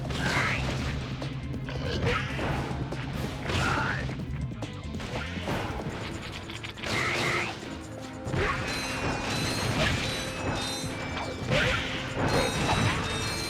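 Bomb glove explosions in Ratchet & Clank on the Rilgar level: a run of sharp booming crashes and clanks, close and loud, layered over busy game music and mechanical effects.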